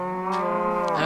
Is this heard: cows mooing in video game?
yes